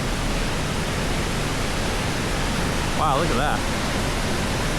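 A big waterfall on a hiking trail in Central Arkansas pours with a dense, unbroken roar that fills the whole scene, loud and close, while a person speaks briefly over it.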